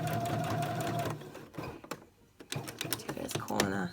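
Sewing machine stitching a quarter-inch seam, a fast, close mechanical whir that pauses briefly, then resumes in short clicking bursts.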